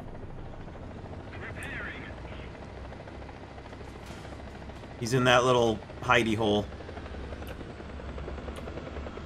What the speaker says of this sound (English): It is a friendly helicopter.